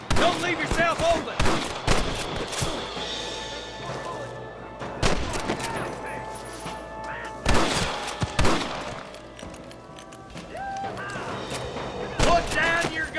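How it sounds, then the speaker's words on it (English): Gunfire in a Red Dead Redemption shootout: sharp, loud gunshots in scattered bursts and single cracks, with voices heard between the shots. "Good shooting, Marston"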